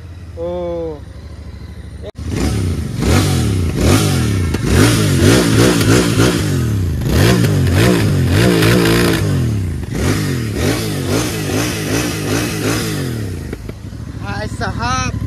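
A Royal Enfield Interceptor 650 twin-cylinder motorcycle is revved hard up close, with repeated rising and falling throttle blips over a deep rumbling idle. A voice is heard briefly before and after the revving.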